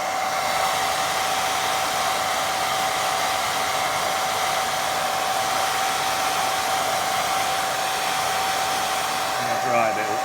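A hair dryer blows continuously and loudly up close over a watercolour painting, a steady whooshing roar with a constant whine that holds unchanged for the full stretch.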